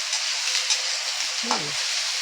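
Chopped onion fries in a pan for a crispy aloo cheese sandwich, giving a steady bright sizzle with a brief low stir or clink partway through.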